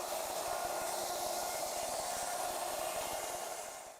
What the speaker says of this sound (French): Comme d'habitude, je fais ça avec la Shaper Origin, vous commencez à bien connaître cette machine depuis le temps que je vous en parle.